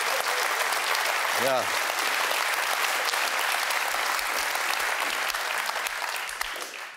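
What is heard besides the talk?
audience applause at a comedy show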